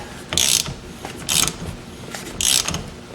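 A ratchet tightens the steering wheel center bolt on a 1986 Mustang GT. Three loud bursts of rapid clicking, each about a quarter second long, come with short pauses between them, close up and with no speech.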